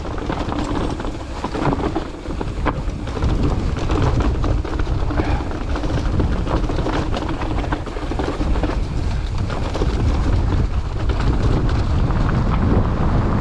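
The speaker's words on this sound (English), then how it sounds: "Oh, that wind right in the face now" Strong wind buffets the microphone of a mountain biker riding in the Peak District, a loud, steady roaring rumble that fills the whole stretch with little variation and no voices.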